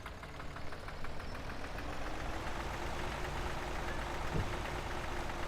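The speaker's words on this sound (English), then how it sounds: "I like the sound this one makes. It's a nice knock in the engine." A vintage tractor engine from Farming Simulator 17 idles with a steady, rhythmic knocking chug. It runs close and continuous, with no talk over it.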